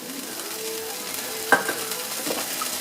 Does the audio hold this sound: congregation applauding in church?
no